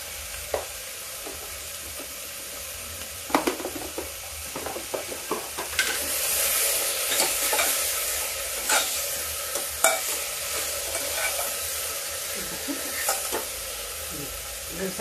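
Mixed vegetables frying in a pan while being stirred, a continuous sizzle with repeated scraping and clinking of the spoon against the pan, close and fairly loud.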